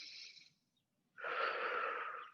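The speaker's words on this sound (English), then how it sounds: "Breathing." Close, airy breathing during a tai chi session outdoors by a bay: a short exhale, a pause of near silence, then a longer, fuller breath.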